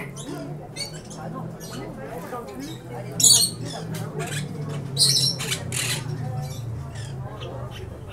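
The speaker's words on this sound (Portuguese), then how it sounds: "Aí os pássaros, gente. Olha o barulho." Birds squawk loudly in short bursts at a covered Paris market decorated for Christmas, the calls standing out over a steady low crowd hubbub and murmuring voices.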